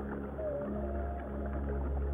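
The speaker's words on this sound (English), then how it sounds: "This is the song of a humpback whale." A humpback whale's song rises as a long, melodic moaning call, a few slow drawn-out tones over a steady low ocean rumble, moderately faint and alone.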